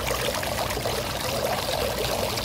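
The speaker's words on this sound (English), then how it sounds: "there is some splash because we keep the fountain really full" Water from a brimming garden fountain splashes and pours continuously, a loud, even, rushing stream heard close by, with no voices.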